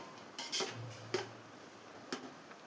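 A spoon stirs vegetables sautéing in a pot for coconut milk veg pulao, with a few distinct metallic clinks and scrapes spaced apart over a quiet, faint sizzle.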